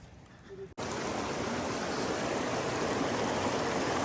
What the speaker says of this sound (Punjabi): ਕਦੇ ਇਦਾਂ ਵਗਦੇ ਦਰਿਆ ਵਿੱਚ ਦੀ ਕ੍ਰਾਸ ਕਰਨਾ ਪੈਂਦਾ ਹੈ